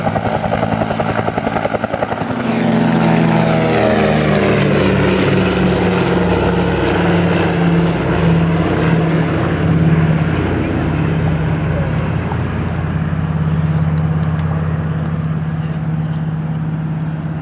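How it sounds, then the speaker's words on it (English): A Huey helicopter departs an air show at Shuttleworth, bound for North Weald. Its loud, steady rotor and turbine roar fills the whole stretch, with a falling sweep early on as it pulls away. "the Huey departing off slot"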